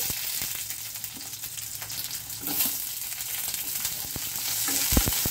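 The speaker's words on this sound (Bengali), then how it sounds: "এখন পেঁয়াজটাকে একটু হালকা করে ভেজে নেব" Coarsely chopped onions fry in hot oil after tempering spices, giving a close, steady sizzle broken by spatula scrapes and a few sharp knocks against the pan, with no talking.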